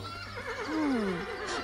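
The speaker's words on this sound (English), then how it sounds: "A horse?" A cartoon horse gives a single short whinny, a quavering, wavering neigh that rises and then falls, clear and close with nobody talking.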